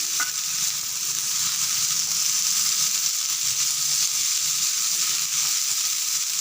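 Two onions and a tomato sautéing in a pan of oil, a continuous close, bright sizzle with soft stirring scrapes underneath, steady and unbroken throughout.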